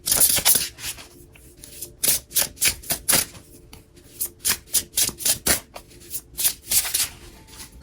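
Tarot cards are shuffled by hand close up, a brisk run of rhythmic riffling bursts and slaps repeating steadily with no talk over them.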